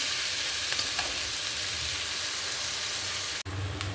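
Onions fry in a pan with a loud, continuous sizzle that holds steady throughout, briefly cutting out for an instant near the end before resuming.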